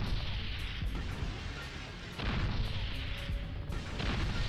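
Snowball machine firing in Spyro: Enter the Dragonfly, heard as a loud, dense series of heavy booming blasts, with sharp new impacts at about 2.2 and 3.7 seconds over a continuous rumbling roar.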